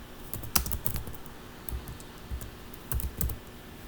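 Keys clatter on a computer keyboard during a CRM search: a close, steady run of light clicks, with a few louder taps and short gaps.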